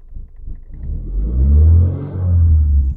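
Seat 124 Sport engine revved through a cable hand throttle linked to the carburetor: a low, close rumble swelling into two sustained revs with a slight dip between them, no talk.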